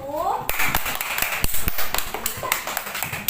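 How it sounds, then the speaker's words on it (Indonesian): Classroom students clap for the first group after its presentation, a scattered run of sharp individual claps following a brief voice at the start. "Tepuk tangan dulu untuk kelompok 1."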